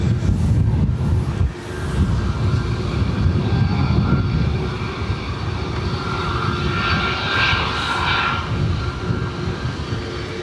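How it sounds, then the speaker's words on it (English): Ryanair jet engine roaring continuously at Dublin Airport, a loud, steady broadband rumble with a brief dip near the start and a rising whine toward the end, no talk. "I've seen either this Ryanair is very loud or something."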